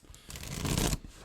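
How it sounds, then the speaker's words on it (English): A deck of tarot cards gets a single quick riffle shuffle up close, a soft papery whirr that swells then stops abruptly, heard alone. "A couple more shuffles, I think"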